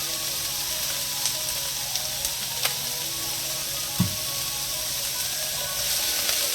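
Cauliflower rice sizzles and crackles steadily in hot avocado oil, with faint occasional clinks of a utensil against the pan.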